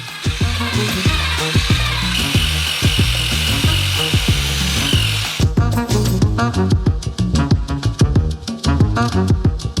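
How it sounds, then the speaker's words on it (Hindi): A loud, continuous mechanical whir of a construction mixer churning thick doughnut batter for a giant doughnut, with rhythmic knocking and a shift in pitch partway through. "एक कंस्ट्रक्शन मिक्सर से हम मिश्रण करेंगे।"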